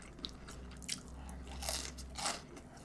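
Close, crunchy chewing of shrimp in rosé tteokbokki at an eating show, with a few distinct bites and soft mouth sounds over a quiet low hum.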